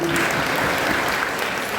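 A crowd at a political gathering applauds continuously, a thick wash of clapping that holds steady from start to finish, with a brief faint tone near the beginning.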